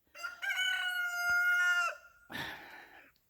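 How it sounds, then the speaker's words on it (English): A conquistador rooster crows once, long and clear and fairly close, followed by a short rough squawk or cluck; the surroundings are otherwise quiet. "I'm distracted by my rooster."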